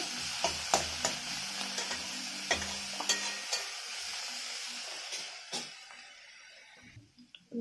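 Ghatkol leaves frying in a pan as a ladle stirs and taps against it, with soft sizzling under sharp clinks near the start, then fading toward quiet.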